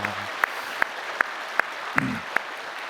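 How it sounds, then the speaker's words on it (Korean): A church congregation claps in steady unison, with crisp evenly spaced beats repeating at a brisk pace after a brief murmur. "우리 교사분들을 위해서 우리 함께 격려하는 박수를 드렸으면 좋겠습니다"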